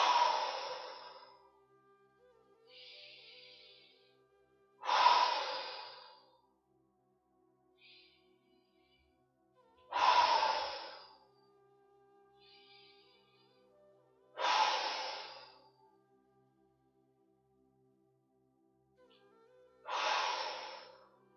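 During a children's yoga session, slow deep breaths come one after another at steady intervals of about five seconds, each a loud close exhale followed by a softer inhale, in a quiet room.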